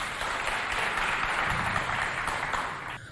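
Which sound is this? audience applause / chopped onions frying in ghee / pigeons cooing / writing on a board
audience applause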